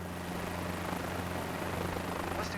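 Helicopter in Microsoft Flight Simulator 2024, a steady droning engine and rotor hum with a constant low tone, even and continuous with no talk.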